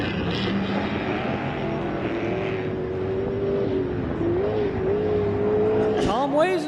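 Off-road race vehicles roar around a course at the MetalCloak Stampede, a sustained engine drone rising and shifting in pitch as a machine passes nearby, with a commentator talking over it.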